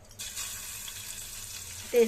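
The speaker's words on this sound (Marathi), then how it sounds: "आले लसूण घालून चांगलं परतून घ्यायचं आहे" Steady close sizzling of ginger and garlic frying in hot oil, a continuous hiss with a brief louder bump at the end.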